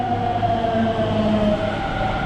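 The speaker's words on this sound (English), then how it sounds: "So that's the train." Metro train in an Indian subway station, a steady rumbling roar with faint tonal whine, continuous and fairly near, with no voices over it.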